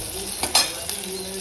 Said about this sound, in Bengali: এদিকে মাছ দেখো লাল লাল করে ভাজা হয়ে গেছে।